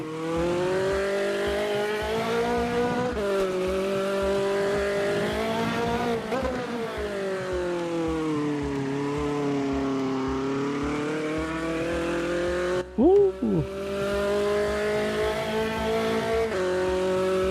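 A V6 car engine roaring steadily on a racing track, loud and close with sustained revving that rises and dips, a brief tire squeal near the end, and a single short exclamation from a voice.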